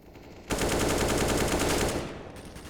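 Sustained pistol fire during a Counter-Strike match, a fast dense stream of shots starting abruptly, staying loud and close for about a second and a half, then tapering off with no voices over it.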